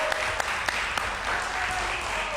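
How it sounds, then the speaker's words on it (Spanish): A studio audience on a live Spanish television talk show applauding, steady clapping at moderate volume over a couple of seconds with a few sharper claps standing out. "Un aplauso para él."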